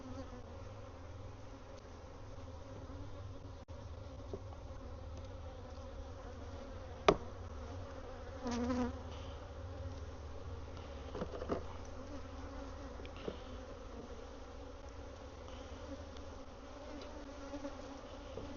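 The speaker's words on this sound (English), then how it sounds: "there are a bunch of bees in the feeder right here" A steady low hum of many honey bees buzzing close by in a hive feeder, continuous and even throughout, with a few faint knocks and rustles.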